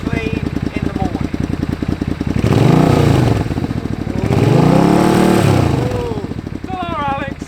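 A motorcycle engine running close by in a quiet evening setting, with a steady rapid pulsing idle that swells twice into louder revving passes before settling, alone without talk.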